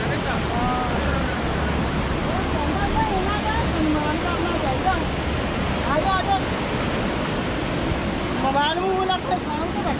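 A cold mountain stream near Manali and Rohtang Pass rushes in a constant, broad roar, with voices talking intermittently over it.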